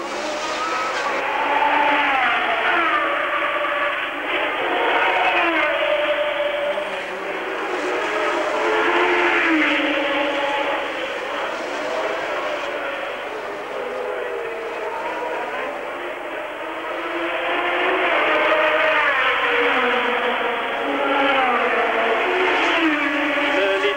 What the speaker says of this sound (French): Nous avons Piquet qui passe à l'instant devant moi.